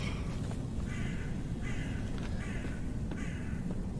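Several crows caw in the Hide Or Die video game, the calls recurring in rough bursts over a steady, dense low rumble of ambient game noise.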